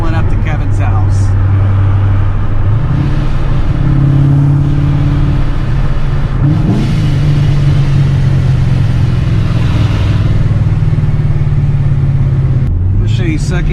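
A Corvette with a straight-pipe axle-dump exhaust roars loudly and continuously as it downshifts, the engine note stepping up and down in pitch while someone talks over it throughout.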